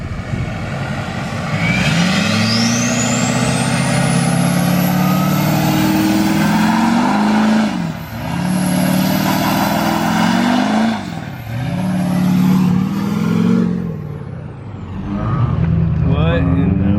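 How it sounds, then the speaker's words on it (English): A Duramax diesel truck with its front clip removed roars through a burnout, its engine climbing to a loud, high rev, then surging in repeated pulls with short dips between them while a high-pitched whine rises overhead. "We're gonna film a little video real quick, pretty much doing a burnout."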